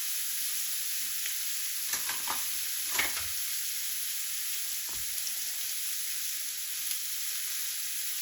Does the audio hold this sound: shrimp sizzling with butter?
yes